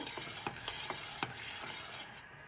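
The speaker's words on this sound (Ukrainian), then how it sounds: "треба тільки мішати, бо він любить пригоріти. Отак, мішаємо" A spoon stirs a pot of blended sauerkraut cabbage soup, or kapusniak, giving soft rhythmic scrapes against the pot over a low simmering hiss. The sound is quiet and close, with no talking.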